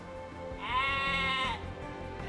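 A sheep bleats once in Age of Empires 2 Definitive Edition on Xbox, a single clear drawn-out call lasting about a second over quiet game background sound.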